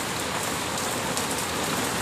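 Heavy rain pours down in a dense, unbroken hiss, loud and close, as a steady downpour beats on surfaces all around with no voices or other sounds breaking through.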